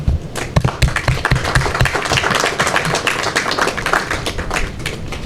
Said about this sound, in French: Je veux aujourd'hui demander à vous tous ici présents d'applaudir celles et ceux qui assurent notre sécurité au quotidien